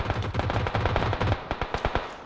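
Rapid automatic gunfire in a video game pounds out in a fast, steady burst of close, loud shots, followed by a few slower, separate reports.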